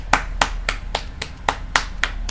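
Nine sharp hand claps in a steady, slightly uneven rhythm, close and loud, with no voices over them.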